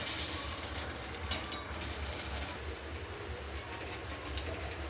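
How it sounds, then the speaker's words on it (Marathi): Sabudana vadas deep-fry in hot oil over a high flame, giving a steady, even hiss and crackle that stays constant and moderately quiet with no voices. "हाय हाय फ्लेमवरच वडे तळून घ्यायचे मस्त ब्राऊन कलर येपर्यंत वडा तळून घ्यायचा"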